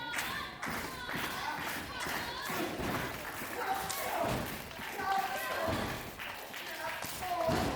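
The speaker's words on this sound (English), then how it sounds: "Slapping the shoulders of the Dark Horse." In a Titanic Wrestling match, a wrestler slaps the shoulders of the Dark Horse during a headlock. The slaps are a series of dull thumps and claps at moderate distance, under steady talk and crowd noise.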